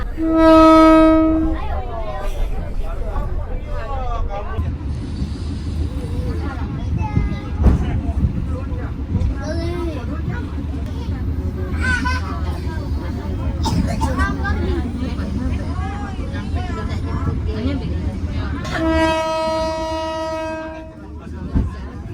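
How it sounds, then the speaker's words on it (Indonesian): The Bukit Serelo passenger train sounds its horn at the start and again near the end as it departs Saung Naga station, with steady rolling rumble and wheel clatter between, while someone talks over it. "sekarang kereta api yang saya naiki tengah diberangkatkan dari stasiun Saung Naga"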